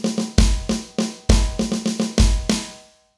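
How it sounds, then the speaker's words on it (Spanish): A drum kit fill, played as a quick run of snare and tom strokes punctuated by heavy bass drum hits, ending with a ringing final crash that decays into silence. "la frase completa añadiendo la parte del bombo suena así"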